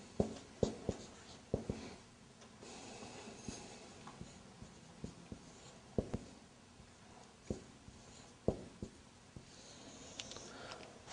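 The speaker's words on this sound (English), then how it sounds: "I'm going to write down." Pen or marker writing on a board or paper during an Arabic grammar lesson, a string of short scratchy strokes and taps with pauses between them, close and fairly quiet, with no talking.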